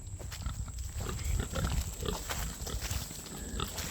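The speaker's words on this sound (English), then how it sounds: "pigs just kind of materialize out of the woods" Pigs grunt and snuffle in a woodland silvopasture paddock, with low, close, continuous grunting and rustling and a faint steady high whine in the background.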